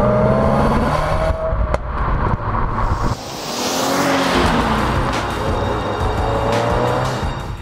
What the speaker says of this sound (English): I get a kick out of the sound that these boxer engines make